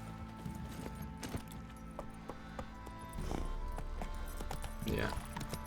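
Hooves clip-clop at a steady pace under a constant layer of game ambience in The Witcher 3, the horse close by.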